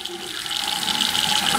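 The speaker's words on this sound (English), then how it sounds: "So what we're going to do is turn on the house water" Household water supply is switched on and runs steadily through the pipes and fixtures with a continuous, fairly loud rushing hiss, no talking.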